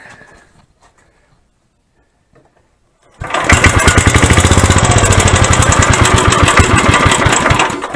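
A salvaged dumpster-find gasoline generator with a homemade gasket starts abruptly after a quiet pause and runs loudly with a fast, rough, chugging engine rhythm, close by with no talk.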